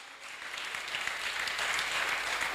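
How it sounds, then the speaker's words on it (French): Hands clapping together in a church gathering, a dense, steady wash of applause that holds at an even level for a couple of seconds with no voices over it. "Quand on dit qu'on acclame, il faut battre les mains."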